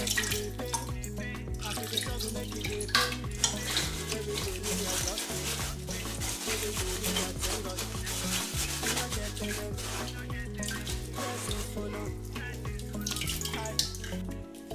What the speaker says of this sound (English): I'm going to add water to rinse the chaff.